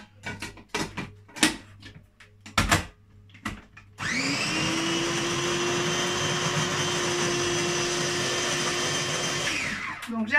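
A blender switches on and whirs loudly and steadily for several seconds, pureeing cranberries with apple for a raw fruit crumble, after a few earlier knocks and clatters.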